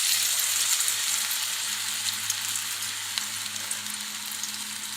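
Kebab patties (kebab taawa) sizzle steadily in hot oil in a pan, a continuous close, even frying hiss with no voices.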